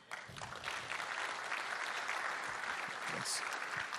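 Audience at a Microsoft Information Protection conference session giving a round of applause, dense steady clapping across the whole stretch, moderately distant and even, no voices over it.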